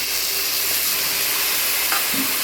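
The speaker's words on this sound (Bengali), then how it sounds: "কষানো হয়ে গেছে এরপর মা এতে মশলা দিয়ে দিল" Spices and potatoes frying in a pan of hot oil, a steady close sizzle and hiss with a faint scrape of stirring near the end.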